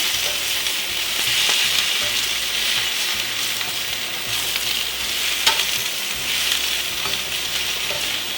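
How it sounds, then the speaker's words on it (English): Fresh spinach stirred into hot olive oil with garlic in a pan: a continuous sizzle and hiss with occasional scraping and tapping from the utensil, close and moderately loud, with no speech. "Then I want to quickly get it all stirred into that olive oil."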